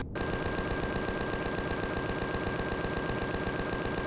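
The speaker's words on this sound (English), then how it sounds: "I'd like to try my guns out" Automatic weapon fire from the player in Empyrion Galactic Survival, a loud, close, unbroken stream of rapid, evenly spaced shots lasting several seconds with no talking.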